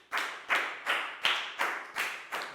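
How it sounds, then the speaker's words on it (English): Seven crisp hand claps in a slow, steady rhythm in a primary school classroom, evenly spaced and fairly close, with nothing else between them. "Big round of applause for Nadia, please, guys."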